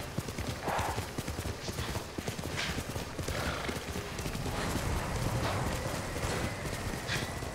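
Horse hooves clip-clop at a steady trot in the Ghost of Tsushima video game, a rhythmic patter of hoofbeats over an outdoor ambience with brief higher whinny-like accents.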